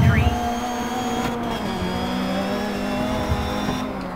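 A race car engine in the video game Dirt 3 drones steadily close up with shifting revs and gear changes throughout, loud and continuous, with no talk.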